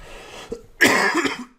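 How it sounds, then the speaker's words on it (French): A forceful, raspy cough from someone who is ill bursts out after a brief softer vocal sound, close to the microphone and lasting under a second. "Je m'excuse un petit peu pour les toux, je suis malade."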